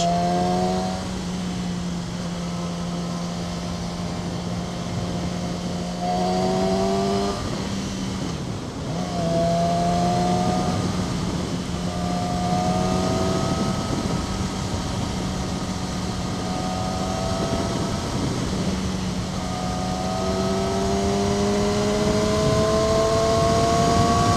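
2012 Yamaha R6 50th Anniversary motorcycle being ridden, the engine note rising through the revs and dropping at each gear change several times, with constant wind rush and no talking.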